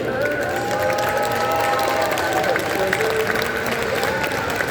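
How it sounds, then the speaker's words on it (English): Large arena crowd at a Monster X Tour show applauding and cheering to honor military members, a loud dense wash of clapping that holds steady throughout, with a faint voice and crowd murmur beneath. "let us give you a round of applause and say thank you"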